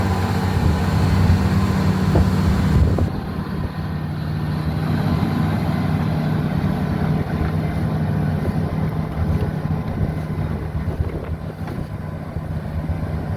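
A heavy tractor engine drones under load working through swamp mud for the whole stretch, a dense rumbling roar with grinding, churning noise and wind buffeting, no talking.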